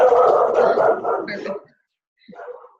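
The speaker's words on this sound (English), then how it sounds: "There goes the dog." A dog barks indoors: a loud, close burst of barking comes first, then a short pause and a smaller, fainter bark.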